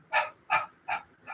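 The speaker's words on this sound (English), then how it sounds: "That's the dog breath, dog pant." Breath of fire yoga breathing, rapid dog-like panting: four sharp, evenly spaced bursts of forced breath about a third of a second apart, close and alone.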